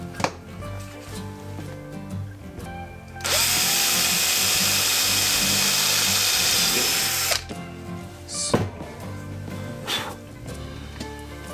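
A power drill whines loudly for about four seconds while modifying a Gardena leaf collector, with quieter tool handling and clunks before and after.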